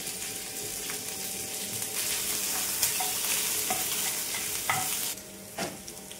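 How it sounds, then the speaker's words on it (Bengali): Ginger paste frying in a pan gives a bright, steady sizzle that runs throughout, with occasional spoon scrapes and stirring knocks, close and loud, easing slightly near the end. "আদা পেস্টটা দিয়ে দিচ্ছি"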